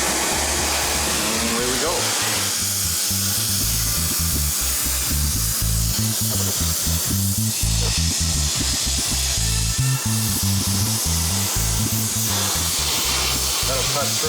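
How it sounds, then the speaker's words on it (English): An oxy-fuel torch flame roars steadily as it heats and melts metal during demolition of a dangerous home renovation, a continuous loud hiss and rumble that holds for the whole stretch with a voice briefly over it. "This is where we use the torch. So that's these settling, and then we're gonna mix in some oxygen so we get the proper flame."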